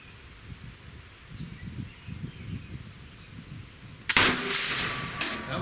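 A single gunshot from ammunition that survived a fire goes off after a long, quiet wait, one sharp loud crack followed by a lingering rumble and a smaller echoing report outdoors.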